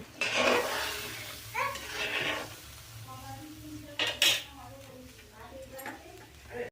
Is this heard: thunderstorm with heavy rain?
no